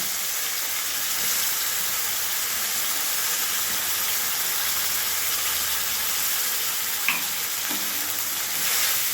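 Whole spices and ground spice paste of ginger, garlic, green chilli, onion and tomato frying in hot oil for crab malaikari, a dense, steady, loud hiss of sizzling throughout with a brief clink near the end.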